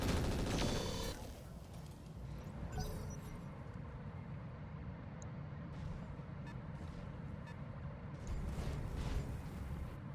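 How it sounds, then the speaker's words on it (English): Javelin missiles firing in the RogueTech BattleTech mod, a sharp launch burst at the start giving way to a dense, continuous rumble of blasts and mechanical noise, with a second flurry of cracks near the end. "Now the Javelin is firing."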